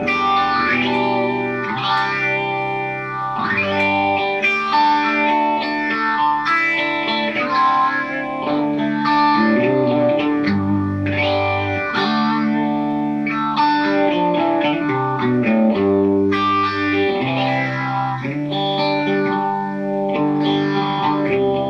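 Electric guitar played through a fOXX Foot Phaser Studio Model 7 at its slowest setting, with a slow sweeping phase swirl over sustained chords and lead lines, loud and continuous without talk.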